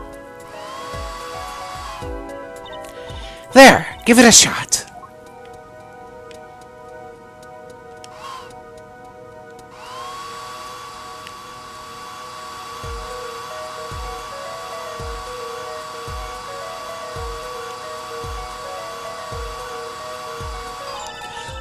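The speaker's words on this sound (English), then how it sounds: "Just press A to blast it with that dryer." A hair dryer blasts wet plaster in the Apollo Justice video game, a steady, even whirring hum that holds for about ten seconds over a ticking game backdrop, after a brief spoken line.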